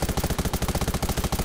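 A drone in the survival game Undawn fires a rapid burst of shots, a dense rhythmic rattle of roughly twenty evenly spaced, loud cracks.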